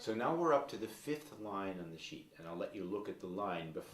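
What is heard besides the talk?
No distinct noise like a dog, phone or traffic.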